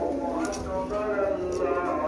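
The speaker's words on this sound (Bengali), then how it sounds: "একজোড়া রয়্যাল টেডি কবুতর আপনারা দেখেন, এটা ডিমে আছে।" Royal Teddy pigeons, a nesting pair sitting on eggs, coo in low, steady murmuring tones, with other birds and faint background chatter mixed in throughout.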